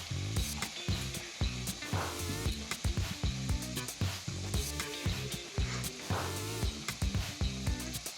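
Mustard paste goes into a pan of Bengali parshe fish curry with tomato, and thick frying sizzle continues under irregular stirring and scraping close by, with no talk.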